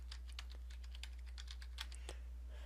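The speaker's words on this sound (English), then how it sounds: "I'll just type in password" A password is typed on a computer keyboard, a steady run of light, close key clicks with a faint background hum and no talking.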